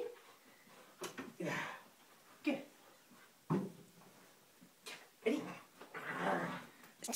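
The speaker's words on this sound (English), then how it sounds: "Jesse, you're not supposed to growl" Dog growling and whimpering in bursts while tugging during a tug-of-war game, close by, with a person talking over it.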